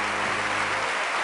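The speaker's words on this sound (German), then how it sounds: "das gibt einen Applaus" A television studio audience applauds in a steady, dense wash of clapping, loud and continuous throughout the short stretch.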